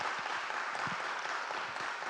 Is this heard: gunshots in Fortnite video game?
no